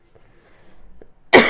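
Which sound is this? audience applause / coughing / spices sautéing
coughing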